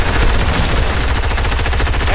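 Rapid, loud gunfire from another player in Fortnite, a dense unbroken burst of close shots with a steady rattling rhythm and no talk over it.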